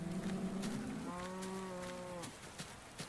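Cattle moo in a Minecraft-style video game, two long drawn-out lowing calls one after another, moderately close over a soft background hiss.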